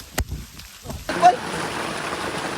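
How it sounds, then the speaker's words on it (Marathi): Rain falls outdoors at night during a crab-catching outing, a steady broadband patter that starts after a second of brief voices and rustling. "पाऊस आला भिजण्यापेक्षा घरी गेलेलं बरं"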